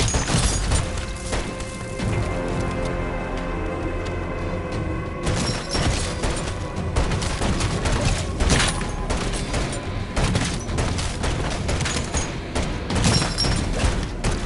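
Sustained gunfire in Call of Duty Modern Warfare Zombies rattles in dense, loud volleys throughout, with booming impacts and clattering mechanisms layered over game noise.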